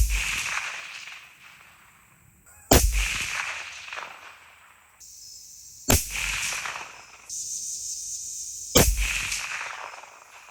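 Four sharp rifle shots crack out at roughly three-second intervals during a scope test with a Hawke Mountain Hunter, each a loud close report with a brief decaying tail over quiet outdoor ambience.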